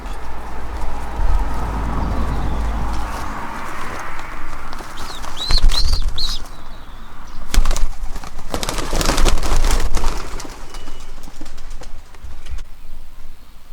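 Pigeons on a morning training flight coo and flutter outdoors amid a low rumble, with a burst of wing flapping and scattered clatter as birds move about.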